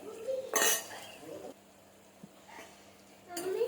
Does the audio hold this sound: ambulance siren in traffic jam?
no